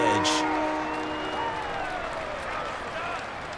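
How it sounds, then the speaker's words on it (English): A stadium crowd roars continuously in an NFL football video game, a dense, loud wash of cheering that holds steady and then eases slightly. "Crowd getting in it a bit already."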